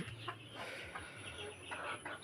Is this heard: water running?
no